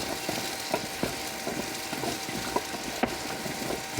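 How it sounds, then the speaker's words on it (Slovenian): A wooden cooking spoon stirs wild apples with sugar cooking in a pot, giving scattered soft knocks and scrapes over a continuous low sizzle, with no voices present. "Nato z kuhalnico premešamo."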